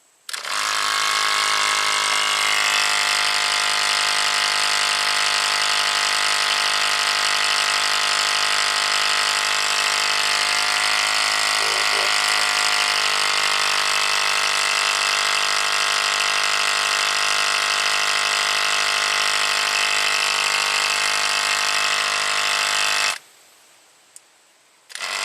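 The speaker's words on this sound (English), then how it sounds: "I don't think the pump's supposed to run all the time." A fuel or electric pump whirs continuously in an abandoned Audi turbo car, a steady loud drone with a constant tonal hum holding nearly unchanged for over twenty seconds before cutting off abruptly near the end.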